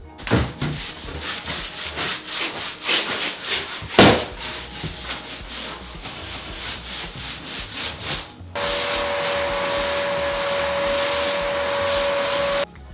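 A saw rasps through a 4x8 plywood sheet for the bathroom subfloor in close, uneven strokes with a sharp crack partway, then a steady loud motor whine takes over for the last few seconds.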